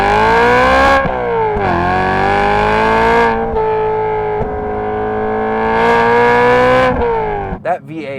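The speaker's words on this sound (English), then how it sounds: "That V8 that just revs so high, absolutely sings" A BMW E92 M3's V8 engine revs loudly and repeatedly, climbing to a high, singing pitch several times with brief drops between pulls, close and unaccompanied.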